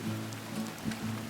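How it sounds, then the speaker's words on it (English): Steady rain falls inside a cloud on Mount Mulanje in Malawi, a soft, even hiss with no voices. "And now we're in the cloud, and it's raining."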